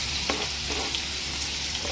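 Chopped onion frying in hot oil with mustard and cumin seeds, a dense steady sizzle with faint crackles, close and continuous.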